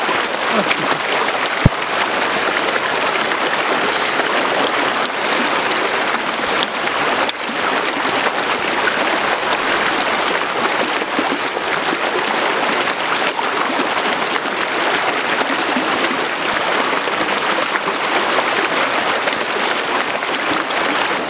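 Wyming Brook, a stream in the Peak District, rushes steadily over its bed in a dense, continuous wash of water noise that stays close and even throughout, with no voices.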